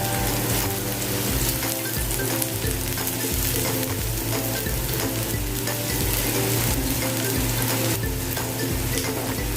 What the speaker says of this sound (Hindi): प्याज हमारी थोड़ी सी फ्राई हो गई है